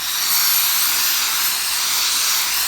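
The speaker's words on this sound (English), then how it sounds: "So I'll give you a little bit of steam." Steam iron hissing over a sewn welt pocket, a steady broad hiss that holds evenly and close for the whole stretch with no talk.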